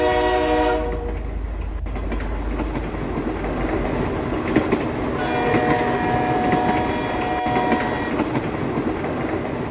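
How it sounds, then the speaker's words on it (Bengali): A train pulls out of a platform with a horn blast at the start, then a steady rolling rumble and clatter of carriages continues loudly throughout, with no voices. "ট্রেন তখন প্ল্যাটফর্মের বাইরে।"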